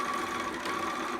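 A sewing machine that has been acting up runs steadily, stitching fabric back and forth to secure the end of a seam on a romper, a continuous close mechanical whir with no talking.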